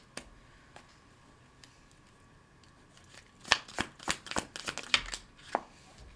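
Tarot cards are shuffled close by, starting as a few isolated taps and then turning into a quick run of crisp riffling slaps.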